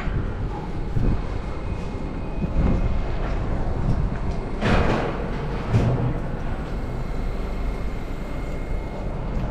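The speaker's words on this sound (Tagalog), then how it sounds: "Ayan, malapit na yung tren. Nandito na." A train pulls into Penrose station on the Southern Line in New Zealand, with a steady heavy rumble from the platform and a few sharper metallic surges as it comes in.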